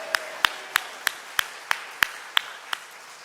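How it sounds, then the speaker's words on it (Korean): Church congregation applauding, heard as about ten sharp, evenly spaced claps in a slow steady rhythm, distinct and fairly close with quiet gaps between. "하나님께 영광의 박수 올려드립니다"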